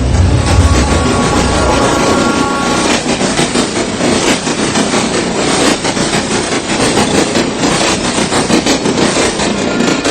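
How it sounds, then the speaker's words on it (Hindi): A passenger train pulls into Pune station at night with a loud, steady rumble and rhythmic wheel clatter, heard up close throughout. "ट्रेन अभी पुणे बस पहुंची ही थी।"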